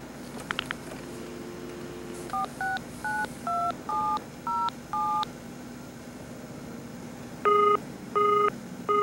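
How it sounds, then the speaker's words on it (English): Telephone speed dial in an 1980s made-for-TV movie: a few quick tone clicks, then a rapid series of short, even dialing beeps, a pause, and three louder closing tones over faint background hiss. "It's on speed dial."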